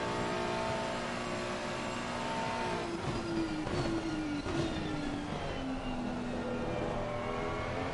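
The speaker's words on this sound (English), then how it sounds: "You're going to hear the little twitch and a little dip of the revs then as Van Buren went over the stream" A GT race car in Assetto Corsa Competizione at Spa-Francorchamps holds a steady engine drone, and the pitch dips and wavers midway as the car rides over a kerb before settling again.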